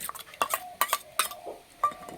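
Several light metallic clinks and taps of a spoon against a small pot as whisked yogurt and mustard paste are added, irregularly spaced, with soft scraping between them.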